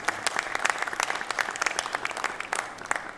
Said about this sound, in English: Nice warm round of applause to everybody here.